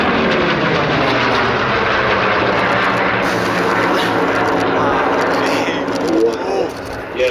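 A Vought F4U Corsair passes at an airshow, its piston engine a loud, broad roar that holds steady before it eases and wavers near the end.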